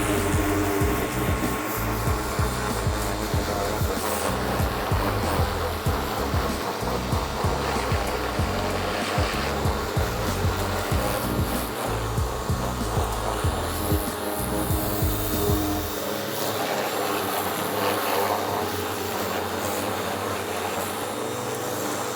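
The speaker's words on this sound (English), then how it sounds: "we'll start rinsing this thing, and you'll start seeing all this dirt start coming off of here" A hose or pressure-washer spray rinses dirt off a car during detailing, a loud, steady hissing rush of water running continuously, with the low end thinning out near the end.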